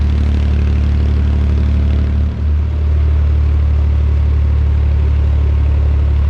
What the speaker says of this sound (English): That's the sound of the exhaust blowing against the rocks on the towpath